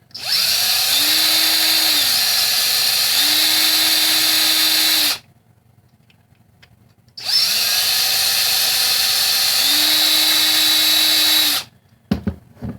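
A power drill with a 5/32 bit whines in two long bursts with a short pause between, its pitch dipping briefly as the bit bites into a toy car's base.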